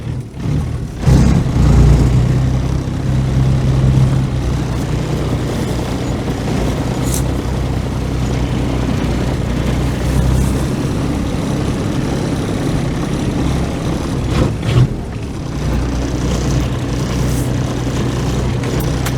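A diesel-swapped Geo Tracker engine running with a steady low rumbling idle, close and loud, with a brief surge near the start and another later, no voices.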